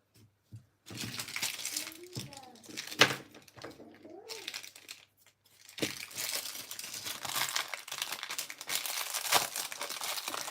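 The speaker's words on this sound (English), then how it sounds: "So let's put the foil on." Foil crinkles and crumples in bursts as it is pressed onto a handmade paper Valentine's cake topper, close and fairly loud, with pauses between rustling passages.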